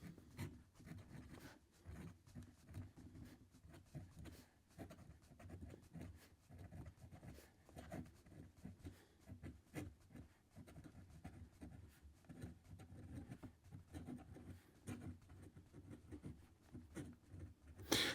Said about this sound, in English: So let's take a look at the fine nib that is on this black model here. And we'll just start writing again.